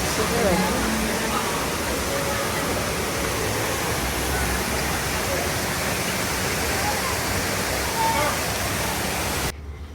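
The indoor waterfall at Jewel, Changi Airport, Singapore, pours down as a loud, continuous, even roar of rushing water that fills the whole stretch without pause.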